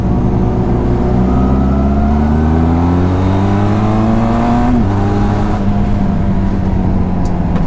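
Benelli TRK502X 500cc motorcycle engine on a test ride, loud and close, holding a steady drone with rising pitch sweeps as it revs, then a sudden drop to a lower note as the throttle closes and engine braking takes over.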